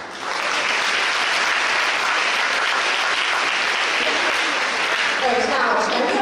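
A large crowd at a university sports performance gala gives loud, sustained applause welcoming the university president, a dense unbroken roar of clapping that swells in quickly and holds steady.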